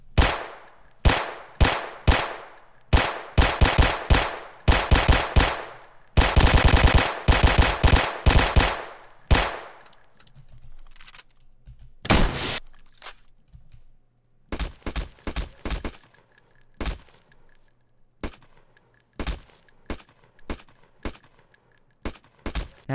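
Carbon Engine guns firing in Roblox Studio, sharp close shots in rapid bursts and a sustained automatic stretch, then sparser single shots with gaps of silence, no talking.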